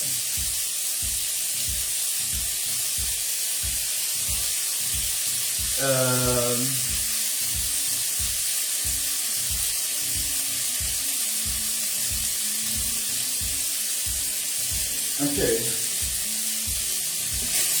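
Steady sizzling of meat stir-frying in a pan, a constant hiss throughout, with a brief word spoken and a couple of short clanks.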